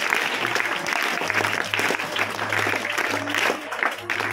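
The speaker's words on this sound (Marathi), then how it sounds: "त्याबद्दल 3 टाळ्या वाजवून आपण त्यांचं स्वागत करूया." An audience at a school event claps to welcome students selected for a state-level competition, a sustained burst of applause from a roomful of people with a voice faintly audible underneath.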